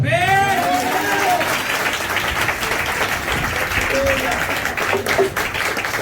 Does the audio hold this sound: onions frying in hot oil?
no